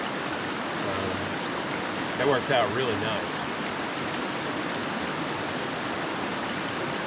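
A mountain creek in the Great Smoky Mountains backcountry rushes steadily and fairly loudly throughout. A person speaks briefly over the flow.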